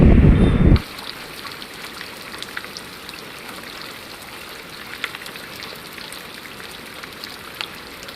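Monsoon rain falls at the Kunkeshwar coast in Devgad: a short loud rush at the start, then soft, scattered raindrop patter that continues evenly.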